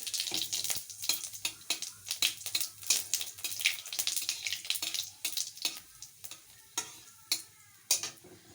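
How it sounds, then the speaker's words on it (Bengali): Bay leaf, dried chili and cumin sizzle in hot oil in a pan, a bright crackling fry broken by repeated sharp stirring clicks and spoon scrapes. "তেল গরম হয়ে গেছে, এখন দিয়ে দেবো একটা তেজপাতা, আর দিয়ে দেবো একটা শুকনো লঙ্কা, দিয়ে দিচ্ছি জিরে"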